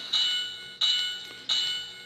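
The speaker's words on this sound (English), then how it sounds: "Turn off that bell." A Bachmann Spectrum Doodlebug model railcar's DCC sound decoder rings its bell three times in an even rhythm, each clear metallic strike close by and slowly fading before the next.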